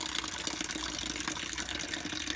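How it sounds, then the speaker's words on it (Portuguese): Well water, drawn from a household water tank, pours into a small white container like an ice cream tub, making a steady, close, continuous splashing rush with no break. "Você vai colocar um pouco da água do poço."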